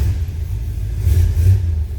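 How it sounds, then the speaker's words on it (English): 1957 Ford Fairlane Ranch Wagon engine running after starting, a deep steady low rumble with a slight swell in revs midway, close and loud, no voices. "Let's go ahead and start this car so you can hear it run."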